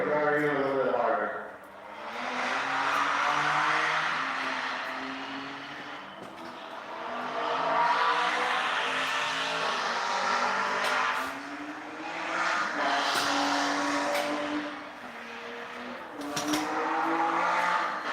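A Honda S2000 sports car driven hard, its engine droning and rising in pitch through repeated pulls with brief lifts, heard continuously from close by with a voice talking over it at times.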